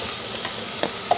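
Seasoning frying in water in a pan while cooking restaurant-style pasta with chicken gives a steady, close hiss and sizzle, with a couple of brief sharper pops near the end.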